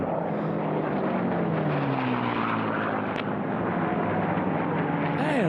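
Unlimited-class racing airplanes in a Bronze heat round the pylons, a steady loud propeller-engine roar with sweeping pitch shifts as they pass, and faint commentary underneath.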